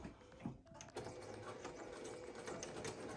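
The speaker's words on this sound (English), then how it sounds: "I'm just going to sew around the perimeter of 3 sides" A sewing machine stitches natural canvas for a tote pouch, its needle whirring in a soft, rapid continuous run after a short start-stop at the beginning, quiet and close.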